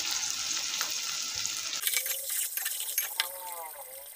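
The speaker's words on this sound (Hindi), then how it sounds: "अब इसमें लहसुन डालेंगे, लहसुन प्याज का पेस्ट, इसको भूनेंगे" Garlic and onion paste frying in a pan for baingan pakora, with a steady close sizzle that thins out partway, followed by soft stirring clinks and someone speaking over it.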